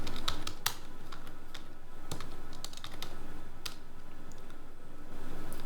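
Someone types a search into the Firefox browser on a computer keyboard: a steady run of close, crisp key clicks and a few sharper taps, with no one talking.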